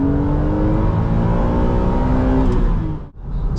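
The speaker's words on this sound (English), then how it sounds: "Let's go and rev it out here." A BMW Z4 M's engine revs up hard toward its 8,000 rpm redline, a loud, sustained, rising mechanical roar close by. It drops off sharply near the end, as if on a shift, then picks up again.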